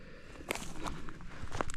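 Footsteps tread across a bog in March, a few soft, faint squelching steps spaced unevenly against quiet outdoor background noise.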